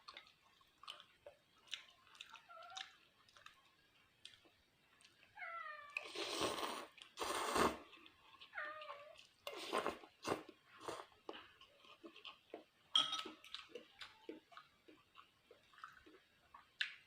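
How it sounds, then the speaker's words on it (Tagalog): A cat meows several times at close range in a quiet room, short rising calls mixed with chewing and clinking sounds from someone eating pizza and beef noodles nearby. "May pusa."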